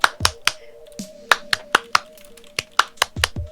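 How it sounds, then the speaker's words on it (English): A person claps by hand, producing sharp, close, loud claps in an irregular rhythm with more than three strikes, over a faint steady tone. "3 claps is enough, right?"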